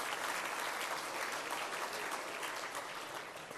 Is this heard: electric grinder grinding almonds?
no